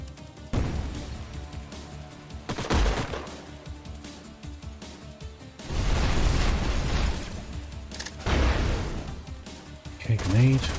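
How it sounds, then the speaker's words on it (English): Grenade explosion in the video game Age of Wonders: Planetfall, with several loud bursts and booms among gunfire-like pops across the battle, a voice talking over parts of it. "Okay, grenade."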